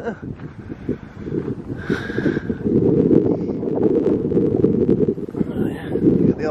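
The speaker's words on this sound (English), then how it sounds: "It's very windy out here today." Gusty wind buffets the microphone in low, rumbling surges, building louder midway, while a person talks over it outside an abandoned ironworks blast furnace.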